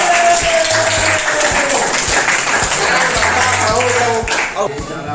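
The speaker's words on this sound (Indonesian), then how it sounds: "tepuk tangan untuk teman-teman yang juga" A classroom full of students claps for their classmates, dense and loud applause that runs several seconds before tapering off, with voices mixed in.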